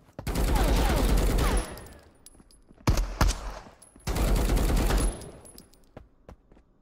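Automatic gunfire in the video game Marauders, two long loud sustained bursts of rapid fire with a few single shots between and after, close and dominant, with a voice speaking briefly.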